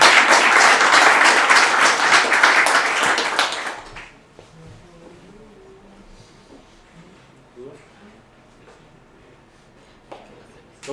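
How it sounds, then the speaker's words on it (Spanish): Enthusiastic applause from a conference audience after a tech talk on apps and frameworks, dense clapping for about four seconds before fading into quiet murmurs and occasional light sounds. "Aplausos por el video."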